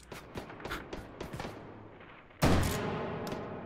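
Shotgun blasts in the VR game Hot Dogs, Horseshoes & Hand Grenades, a scatter of sharp close shots followed by one heavy, booming discharge with a lingering tail.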